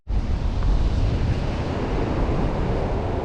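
Sea surf on a remote Northumberland beach, a loud steady roar of breaking waves mixed with wind buffeting the microphone, with no voices.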